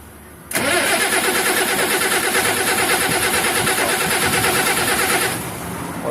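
A Cummins diesel engine cranks in a long continuous grinding burst, struggling to fire and never fully catching, loud and close with no talk over it.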